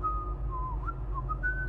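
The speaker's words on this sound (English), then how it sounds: "Whistle." Character whistling in the Guardians of the Galaxy Telltale video game, a thin wandering melodic whistle of slides and short held notes over a low background hum.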